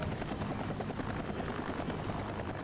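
Hind D attack helicopter in the Entropia Universe game, a steady loud rotor thrum with dense broadband engine roar, continuous and close throughout with no talk.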